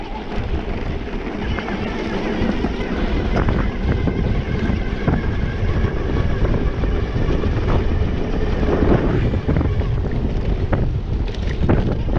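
A Super73 R electric bike on a trail ride, heard as steady rushing wind buffeting the microphone, with rumble and rattling bumps from the ground throughout, loud and continuous.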